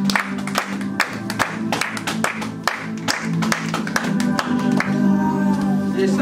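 A church congregation applauds in praise of God, with steady dense clapping and a crowd of voices loud and close, a held tone rising beneath toward the end.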